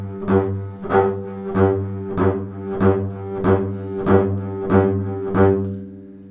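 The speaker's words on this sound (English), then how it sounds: "Let's say I want to go the other way." Bluegrass upright bass shuffle bowing, the accent now on the upstrokes while the downstrokes stay ghostly, giving an even pulsing swell of bowed low notes, close and solo.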